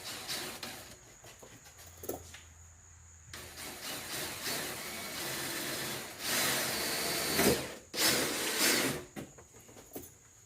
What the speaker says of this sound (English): the next hole is again another 3/16 pilot hole